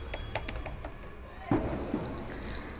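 Computer keyboard typing while coding a React e-commerce page gives a short burst of quick, close key clicks followed by a few scattered taps.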